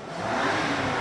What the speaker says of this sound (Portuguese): Aqui é o motor V10.